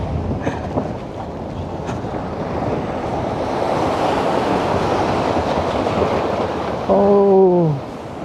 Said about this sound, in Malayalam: തിരമാല വരുന്ന കേട്ടോ